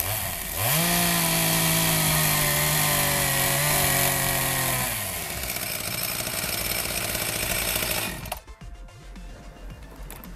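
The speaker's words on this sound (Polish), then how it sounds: "Podejście pierwsze, piła motorowa, nie dała rady." A chainsaw roars loud and close outdoors while trying to cut open the packaging of a Tracer Tomahawk computer mouse. The engine holds a steady high whine, then drops to a rougher idle before cutting out.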